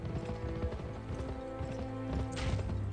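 A horse's hooves clip-clopping in the Western video game Gun, a quick irregular run of hoofbeats over a low game soundscape, fairly close and without speech.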